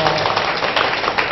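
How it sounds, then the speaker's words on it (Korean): Audience applause at a televised lecture by a photographer, a brief dense burst of many hands clapping filling the room at close range. "박수 한번 주세요."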